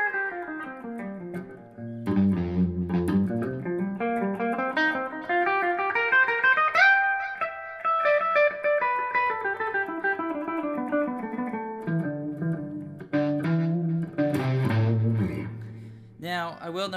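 Ibanez S Series seven-string electric guitar played djent style with distortion, a continuous run of picked notes and sliding melodic lines rising and falling, with heavier low chugging bursts near the start and end, loud and steady throughout.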